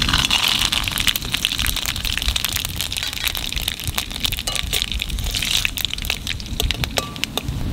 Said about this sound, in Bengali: ডালের উপর দিয়ে দেবো কটা সর্ষে শুকনো লঙ্কা